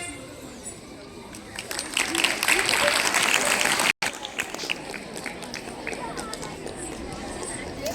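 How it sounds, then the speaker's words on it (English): After a dance performance at a school prize distribution, a crowd claps loudly and densely, then the clapping thins into scattered claps with voices chattering underneath. "A huge round of applause to our talented dancers for bringing the story to life with such grace, emotion and energy"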